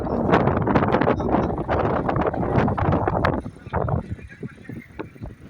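Strong wind buffets the microphone in loud, uneven gusts that ease off toward the end, on Parunthumpara (Eagle Rock) hilltop near Peerumedu, Kerala.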